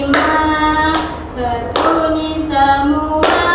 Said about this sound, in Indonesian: tepuk jari satu, tepuk jari dua, tepuk jari tiga, tepuk jari empat, tepuk jari lima